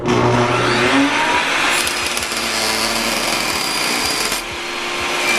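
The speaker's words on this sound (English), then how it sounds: "Using a saw like a table saw, as you can see, cut it perfect." Table saw cutting a sheet of ABS plastic, a loud continuous whining motor with a harsh cutting roar that rises and falls as the blade works through the material, with faint ticking under it.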